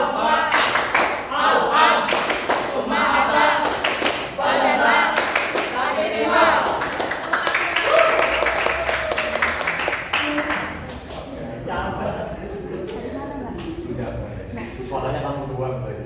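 A class joins in a rhythmic clapping chant, with bursts of hand claps cutting through loud group voices and a teacher speaking during an Arabic-language micro-teaching lesson.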